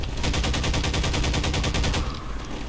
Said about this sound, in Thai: มันยิงทะลุรั้วได้